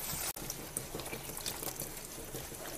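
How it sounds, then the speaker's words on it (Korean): Cucumbers rubbed by hand under a steady stream of running tap water after a soak in vegetable wash, giving a continuous close splashing and trickling with a brief dropout near the start. "흐르는 물에 이렇게 문질러서 씻어줘요"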